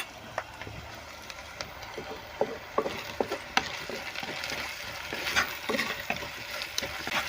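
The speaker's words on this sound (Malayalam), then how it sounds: "ഇഞ്ചി, പച്ചമുളക്, വേപ്പില, സവാള, ചെറിയ ഉള്ളി, വെളുത്തുള്ളി നമുക്കിതൊന്ന് വഴറ്റിയെടുക്കാം." Ginger, green chili, curry leaves, onion, shallots and garlic sautéing in a pan for a sardine curry with pepper and ground coconut, heard as a steady soft sizzle with irregular scraping and stirring clicks throughout.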